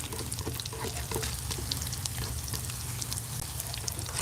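Trout pan-frying in a hot skillet gives a steady, dense sizzle with scattered crackles and pops, continuous and close throughout.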